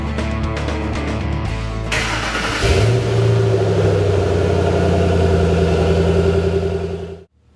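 A 2005 Ford Mustang GT coupe's 4.6-liter V8 starts up, rumbles, then rises into a loud, held rev before settling into a steady idle, close and with no talking.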